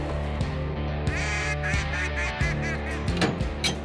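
Ducks quack repeatedly over a steady backdrop of music, the calls scattered and fairly close.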